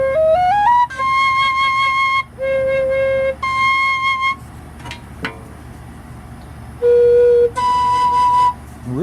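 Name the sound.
four-hole Native American flute notes being played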